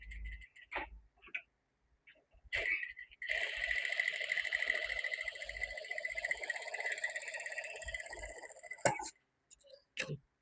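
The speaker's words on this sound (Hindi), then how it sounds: "इस तरीके से धीरे धीरे गोलाई देते हुए सिलना" Sewing machine stitching the round neck of a suit, a steady rapid ticking hum running for several seconds, bracketed by brief clicks and handling noises before and after.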